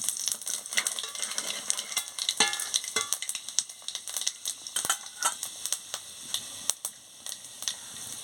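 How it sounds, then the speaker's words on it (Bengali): Dry red chillies dropped into hot oil for tempering give a soft, crackling sizzle with sharp spits and scattered clinks of a utensil against the pan. "এবার আমি ফোড়নটা শুকনো লঙ্কাটা দিয়ে দিচ্ছি।"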